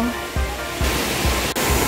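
Bottom Falls at Ng Tung Chai pours in a constant, full roar of rushing water, close and loud, with a few low thumps from handling breaking the steady flow.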